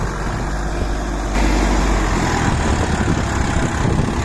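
A Mahindra Yuvo 405 DI 4WD tractor's steady low engine rumble runs throughout, growing slightly louder and heavier after the first second, working close by under heavy load.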